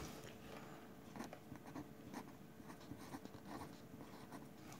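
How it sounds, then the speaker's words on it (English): Pen writing out a number by hand, quiet scratchy strokes in a continuous irregular rhythm, close and faint with no voices. "I'm going to write it again."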